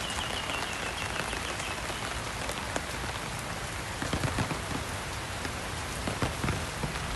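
Steady rain falling during a walk in Phuket, Thailand, a dense continuous hiss of drops on surfaces with scattered closer patters and drips, moderately faint and alone without talk.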